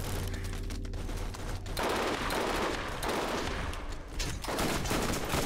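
Robotic turrets in the Borderlands video game fire sustained rapid bursts of automatic gunfire, a dense crackling fusillade that pauses briefly before resuming, with no talk over it.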